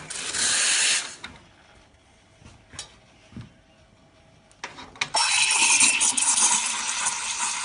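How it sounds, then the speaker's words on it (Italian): An espresso machine steam wand froths whole milk in a steel pitcher: a loud initial purge hiss, a few quiet clicks and taps, then a sustained, forceful steam hiss. "Vado a montarlo con la lancia a vapore"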